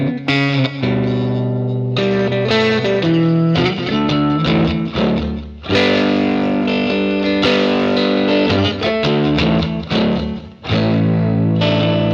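A refinished Fender Stratocaster electric guitar plays a driven, distorted song passage through a Dr Z Jetta amp, with sustained chords and phrases ringing continuously and loudly.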